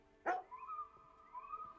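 A cartoon dog barks once in a puzzle video game, a single sharp bark followed by a soft, wavering whistle-like game tone.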